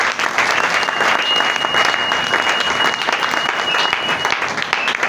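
A church congregation applauds steadily and loudly for the whole stretch during a Sunday sermon, dense clapping with crowd murmur blended in.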